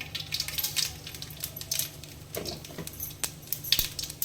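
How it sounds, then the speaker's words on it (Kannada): Mustard seeds are dropped into about three tablespoons of hot oil in a pan, making faint scattered pattering and small crackles, quiet and close, with no talking. "ಇವಾಗ ಸ್ವಲ್ಪ ಸಾಸಿವೆನ ಹಾಕೋತಾ ಇದ್ದೀನಿ."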